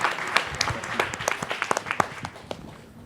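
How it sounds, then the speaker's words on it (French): Applause for the SDCC team at the 2022 Fibois national timber construction awards, a short burst of scattered clapping from the audience that thins out after a few seconds, with a voice speaking over it. "applaudissez-les"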